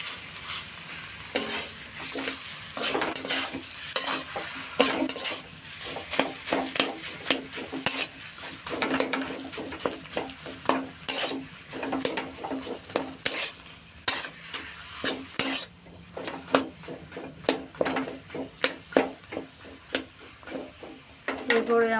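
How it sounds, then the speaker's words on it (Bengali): Potato pieces frying in a pan over a medium gas flame for aloo paratha, a constant soft sizzle broken by repeated scraping and clinking strokes of a spatula stirring against the pan. "মিডিয়াম ফ্লেমে কিন্তু আলুটাকে করতে হবে।"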